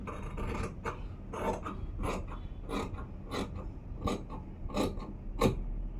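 Cloth is cut for a normal sleeve in a steady rhythm of rasping strokes, roughly two a second, close and alone over a low background rumble.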